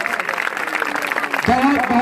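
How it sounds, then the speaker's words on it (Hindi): Audience clapping at a village community gathering in rural Ballia, a steady dense patter of many hands filling the space, with an amplified voice talking over it. "और जोरदार बजाइए एक बार, जोरदार ताली बजा करके आचार्य जी का"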